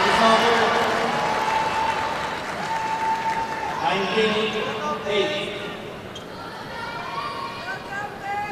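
A badminton arena crowd cheers and applauds for Taufik Hidayat at the 2006 Asia-Europe match, a steady roar of clapping and voices filling the hall throughout with swells of louder cheering.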